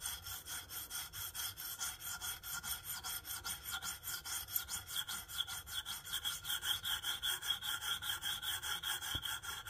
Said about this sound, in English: you don't put any weight whenever you're sharpening it on your stone.